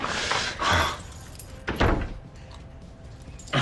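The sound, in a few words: keys jangling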